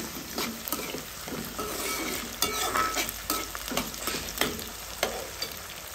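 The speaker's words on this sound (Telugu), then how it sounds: "ఉల్లిపాయలు అయితే కొంచెం వేగినాయి. ఇప్పుడు టమాటాలు వేసేసుకుందాం." Onions and tomatoes frying in a pan for a village-style mushroom curry: a constant close sizzle broken by scraping stirs and soft knocks of the spoon, with no voices.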